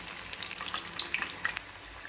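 Cabbage vadi, coated with sesame seeds, frying in hot oil, giving a soft, steady crackle with scattered bright pops throughout, close and moderately quiet with no voices.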